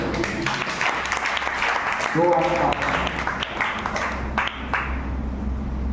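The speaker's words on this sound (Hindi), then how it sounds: "जोर से ताली बजाइए।" A congregation claps at a Sunday worship service, a dense wash of hands running throughout while a preacher's voice and other voices speak loudly over it.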